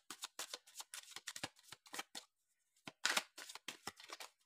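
Tarot cards being cut and riffled, a close, crisp flurry of papery shuffling bursts in quick succession with one brief pause, no speech.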